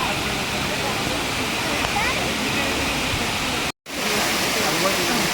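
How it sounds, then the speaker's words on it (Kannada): A waterfall pours with strong flowing water, a loud dense broadband rush heard up close that runs steadily, broken only by a brief cut partway through. "ಈ ಫಾಲ್ಸಲ್ಲಿ ತುಂಬಾ ಚೆನ್ನಾಗಿ ನೀರು ಹರಿತಾ ಇತ್ತು"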